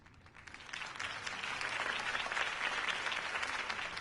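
Crowd applause after a campaign speech in Telltale Batman, a steady wash of clapping that swells from quiet to full and holds for several seconds.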